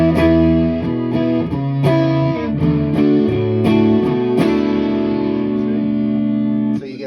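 Distorted electric guitar with a passive bridge pickup and an active neck pickup, playing a loud, sustained run of chords and notes through overdrive, steady and close, with a brief break near the end.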